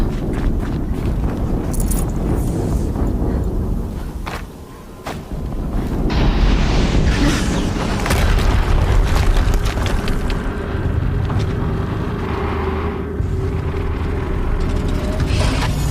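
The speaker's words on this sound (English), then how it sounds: "Another explosion." Heavy explosions and booming blasts in the action video game Horizon Zero Dawn, loud and continuous, with rumbling impacts and debris filling the scene and a brief dip before the noise swells again.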